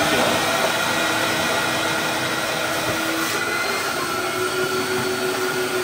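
A heavy 40 kg Sico-type wet/dry vacuum cleaner runs steadily during a suction test, giving a loud continuous motor whine and airflow roar throughout, with a faint tonal hum and no talking.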